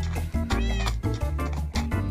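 A video-game cat meows repeatedly, loud and close, with several drawn-out calls in quick succession.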